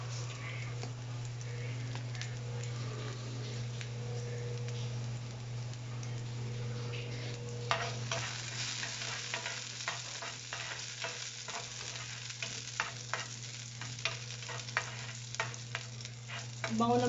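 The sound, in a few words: garlic frying and browning in a pan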